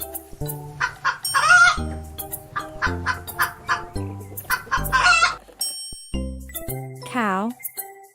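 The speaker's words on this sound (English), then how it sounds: "Chicken." A farmyard chicken clucks and cackles in a bright children's animal-learning cartoon, a run of short, close, repeated calls mixed with light chimes and jingles, with no talking over it.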